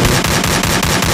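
Rapid shotgun blasts in a PUBG or Free Fire style mobile shooter pound out loud and close, roughly three sharp reports in quick succession with no pause between them.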